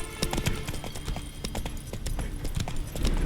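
Horse hooves clip-clop steadily throughout in The Witcher 3 video game, a quick run of close, sharp hoofbeats with faint neighing from the spooked horse mixed in.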